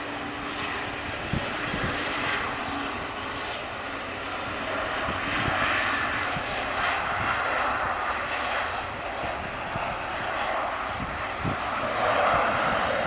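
A TAP Portugal Embraer E190LR landing at Manchester Airport produces a sustained jet engine roar, moderately loud and fairly steady, with a few faint knocks nearby and no talk.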